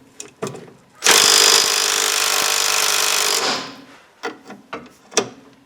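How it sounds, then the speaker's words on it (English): Power tool spinning off an 18 mm nut on a Jeep sway bar link: a loud sustained mechanical buzz for about two seconds, framed by scattered metallic clanks and taps. "Alright, so I'm going to start taking this nut off down here,"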